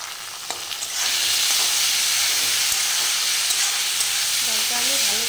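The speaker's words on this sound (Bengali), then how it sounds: "ডালটা আমি ভালো করে একটু করে মিশিয়ে ভেজে নেব" Boiled lentils (dal) frying in a pan, a loud steady sizzle and hiss that swells after a brief clatter and continues close-up, with faint stirring scrapes near the end.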